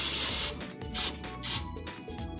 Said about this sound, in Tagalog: Maglalagay na tayo ng spray oil.